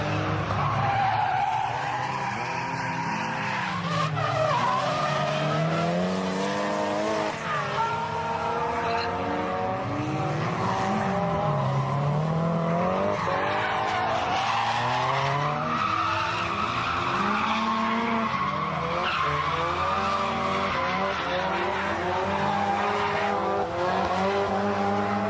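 Drift cars on a wet track in Kyushu, including a powerful S14, with tires squealing in long wavering howls over engine roar, several cars sliding close together in a loud continuous run.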